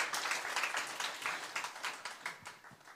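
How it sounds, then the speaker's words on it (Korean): Congregation clapping together during a Sunday evening church service, a steady crowd of hand claps at moderate volume, fairly distant, with faint voices mixed in. "박수 좀 쳐주세요"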